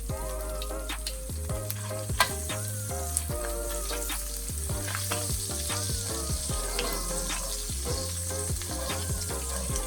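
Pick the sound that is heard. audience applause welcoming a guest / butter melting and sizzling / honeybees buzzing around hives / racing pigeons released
butter melting and sizzling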